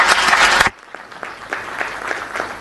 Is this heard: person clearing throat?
no